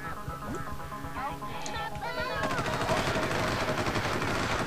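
Rapid bursts of enemy Sleek gunfire in the Oddworld: Munch's Oddysee video game swell in after a quieter stretch of game effects, a rattling machine-gun stream that stays steady and moderately loud until the end.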